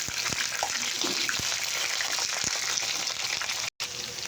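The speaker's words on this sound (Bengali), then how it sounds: "এবার বেগুনগুলোকে একটু ভেজে নিই" Long-sliced, washed eggplant frying in a pan, giving a loud, continuous, hissing sizzle that stays close throughout, with a few faint knocks.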